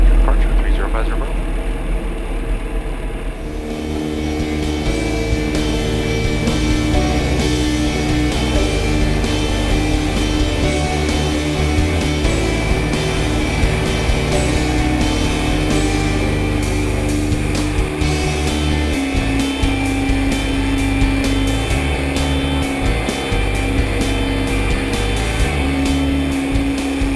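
A Cessna light airplane's engine drones loud and steady through its takeoff run and climb, a continuous close propeller roar filling the cabin.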